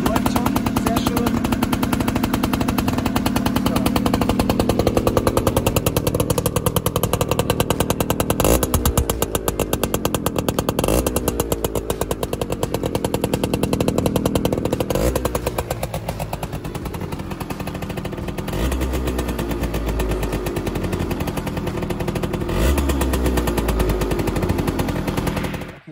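A Zündapp KS 80 Sport moped engine runs steadily after being kickstarted, a loud, buzzy two-stroke idle with a rapid, rattling rhythm that holds close and continuous throughout, easing slightly toward the end.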